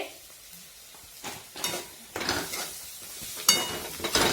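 A spoon scrapes and stirs sautéed onions with salt in a pan for kanda poha, soft sizzling under a series of irregular metallic scrapes and clinks that grow louder, close and alone.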